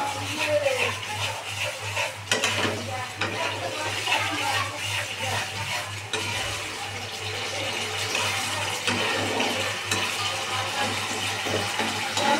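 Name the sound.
Gobindobhog rice being stirred and sautéed with fried spices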